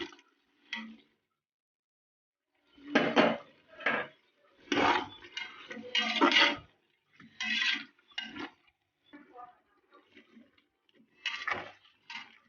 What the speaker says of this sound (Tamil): நல்லா காளானை நல்லா கலக்கி விடுங்க.